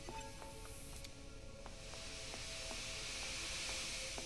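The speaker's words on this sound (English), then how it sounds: "That steam is gonna kill me." Steam hissing in the video game Dark Matter: a steady, fairly quiet broadband hiss that swells slightly over several seconds, with faint rhythmic clicking and pinging in the background.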